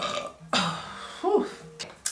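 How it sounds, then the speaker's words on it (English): A single close, loud burp from a woman rolls out with a wobbling tone, framed by brief breaths and small mouth noises. "I feel a burp coming."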